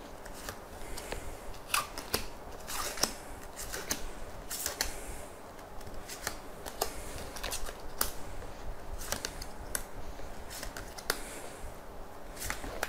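Tarot cards being laid out one by one on a table for a fifteen-card spread, giving soft, close snaps and flicks at irregular intervals over a quiet background hiss.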